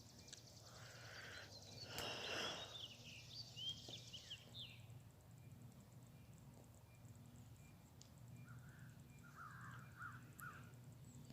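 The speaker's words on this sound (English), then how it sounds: "Crows are getting annoying." Crows caw in trees outdoors, with a few faint, distant calls in short bursts over a low background rumble.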